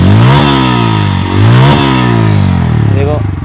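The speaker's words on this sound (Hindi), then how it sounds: "हाउ एवर एग्जॉस्ट नोट सुना देता हूँ।" A Bajaj Pulsar N160 motorcycle revved repeatedly at standstill, loud close exhaust note rising and falling through several blips with a throaty idle between them.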